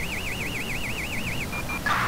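A car alarm in the GTA 5 video game, a rapid warbling siren tone that sweeps up and down steadily, then breaks into short chirps and cuts off near the end.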